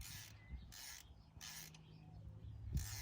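A ratchet wrench being turned slowly on a bolt while a coolant sensor is fitted on a TYM T574 tractor, giving repeated bursts of close mechanical clicking and creaking in a short rhythmic series with no talk.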